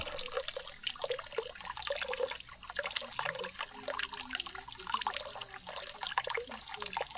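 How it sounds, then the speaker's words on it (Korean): Water trickles from the roof through a wooden trough and splashes steadily with small irregular drips and gurgles, close by and moderately quiet, with no voices. "저 위에서부터 이 나무 통으로 물을 흐르도록 딱 받쳐놨네요."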